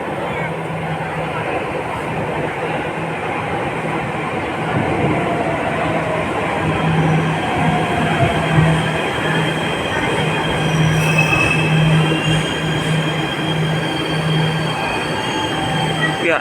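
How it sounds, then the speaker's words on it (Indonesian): A Jakarta MRT subway train runs with a steady, loud rumble, wheel noise and faint squealing inside the carriage, continuous throughout. "Nah, ini MRT yang akan kita naikin ya teman-teman."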